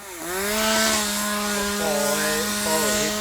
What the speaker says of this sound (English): Workers use a chainsaw to cut down the White Popinac in this hillside area